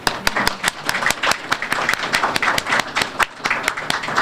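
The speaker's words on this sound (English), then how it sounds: "let's give a round of applause to our talented poets all in the front rows" An audience at a library poetry awards ceremony claps for the poets, a brisk, steady burst of hand claps close by, dense and even throughout with no pauses.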